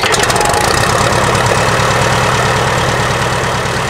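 A vehicle engine that has sat unused for a year runs loudly after starting, a steady close idle with a low rough knock and vibration.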